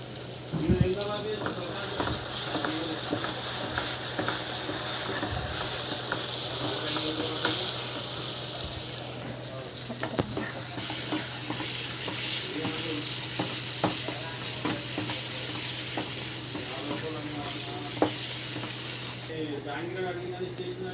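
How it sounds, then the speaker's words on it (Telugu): Brinjals frying in oil with chilli powder and turmeric, a steady close sizzle broken by occasional scrapes and clinks of stirring, alone without speech. "మంచిగా వంకాయలు మంచిగా ఫ్రై అయినాయి."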